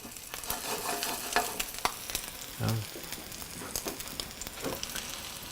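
Wild rice fritters fry in hot oil, a continuous crackling sizzle at moderate volume with scattered pops and a brief dull knock partway through.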